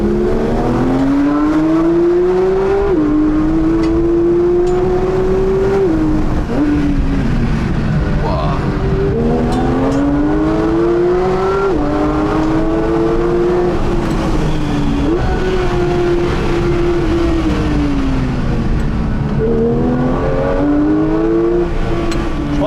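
A Porsche 992 GT3 engine revs hard toward 9000 rpm, climbing repeatedly through the gears in loud, rising sweeps, heard steadily from on board the car.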